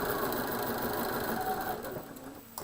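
A sewing machine stitches quilt fabric with a 60-degree diamond ruler setup, giving a continuous close mechanical whir and needle rattle that slows and fades near the end.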